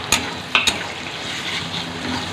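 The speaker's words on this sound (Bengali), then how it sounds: "পেঁয়াজ, টমেটো একটু ভাজা ভাজা করে নিই।" Ginger, garlic, onion and tomato frying in a pan give a steady, soft sizzle, with a few sharp clinks from a utensil near the start and no talking.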